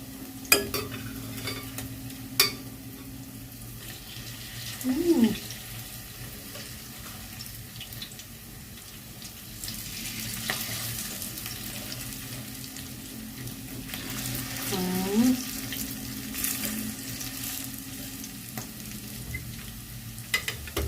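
Vegetable okoy fritters of squash, carrots, cabbage and onion frying in a pan over medium heat, a steady close sizzle running throughout with a few clinks and scrapes of a utensil turning them.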